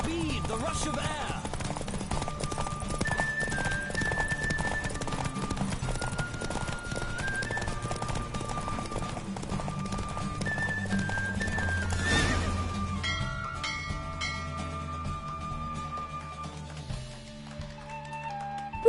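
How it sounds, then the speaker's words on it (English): A horse in Fortnite gallops with steady clip-clop hoofbeats and gives several loud whinnies, all over continuous background music. "Don't spare the horse."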